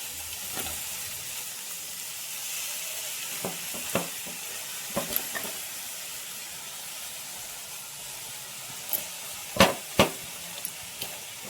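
Chopped dill greens stir-fry in a pan with a steady soft sizzle and hiss, broken by scattered scraping clicks of stirring, quiet and close with no talking.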